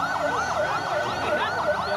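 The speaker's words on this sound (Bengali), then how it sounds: "আমরা শুনতে পাচ্ছি আমাদের ফায়ার সার্ভিসের গাড়ি ওদের সাইরেন দিয়ে অগ্নি নির্বাপন করবে এবং ঘটনাস্থলে চলে আসছে।" A fire service truck's siren sounds during a firefighting training drill at a college, wailing in rapid, repeating up-and-down sweeps, loud and steady throughout with no voices.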